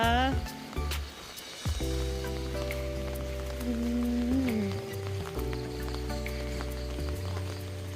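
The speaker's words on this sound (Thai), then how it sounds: "ฝนตกอยู่หลังบ้าน" Rain falls steadily behind a rural house as a constant soft patter, with someone talking over it and other tonal sounds on top.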